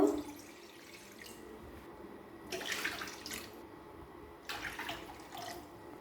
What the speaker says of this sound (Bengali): চার বাটি জল দিয়ে দিলাম